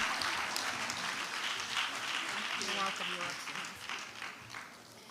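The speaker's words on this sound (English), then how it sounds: "Please, let's clap as if we know she's almost saying goodbye" Audience at a West African women's political leadership forum claps for the ECOWAS Commission vice president, a moderate, somewhat distant patter with a voice speaking over it midway, gradually thinning toward the end.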